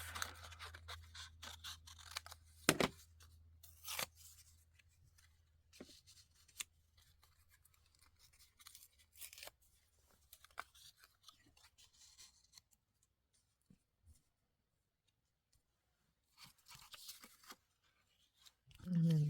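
Scissors snip paper in half for a junk journal masterboard, giving a few brief close cuts among quiet rustling and handling.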